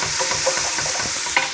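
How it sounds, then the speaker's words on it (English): Food is stirred in a hot pan, giving a soft continuous sizzle with faint scraping strokes and one brief clink near the end, heard close and alone. "Just give these a bit of a stir so they don't stick."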